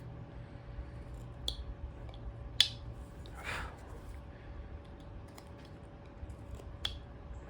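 Carving blade cutting into basswood while shaping a nose, making a few sharp, scattered clicks and scrapes with a soft slicing pass near the middle, close up and fairly quiet against a steady low hum.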